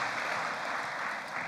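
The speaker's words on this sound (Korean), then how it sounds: "감사의 박수 보내주시면 고맙겠습니다" A church congregation at a Sunday worship service claps in thanks for the volunteers, a steady, dense patter of many hands filling the room without a break for a second and a half.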